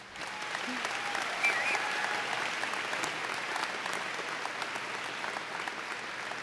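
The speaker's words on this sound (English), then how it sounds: "let's give one more big round of applause to Ron Stragan and Dr." Sustained applause from a large convocation audience at UW-Stevens Point, honoring Ron Stragan and Dr. Shani Luft, a dense, steady wash of many hands clapping that holds evenly for the whole stretch.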